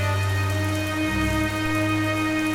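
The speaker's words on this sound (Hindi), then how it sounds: "बाहर बहुत तेज बारिश हो रही है और तूफान भी चल रहा है।" Heavy rain pours down during a night storm near the sea, a steady dense hiss that continues without a break for the whole stretch, with a faint tonal drone underneath and no voices.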